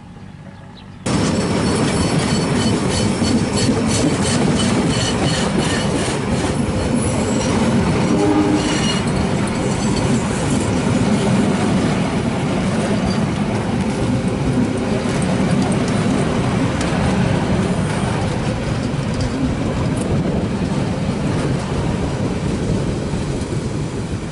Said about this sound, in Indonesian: terlihat komuter lain Bandung Raya sedang bergerak ke arah timur